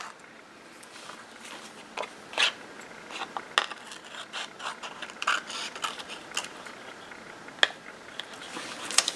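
A ransom-note style paper tag is trimmed, producing a quiet, irregular run of small crisp snips and clicks that continues close up without talk.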